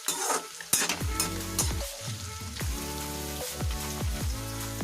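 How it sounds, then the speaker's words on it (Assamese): Onion frying in a pan crackles and sizzles steadily, with repeated scraping stirs and clinks of the utensil against the pan, close and clear, with no voices. "এয়া দেখিছে, মই ভাজি আছোঁ বৰ্তমান পিঁয়াজটো।"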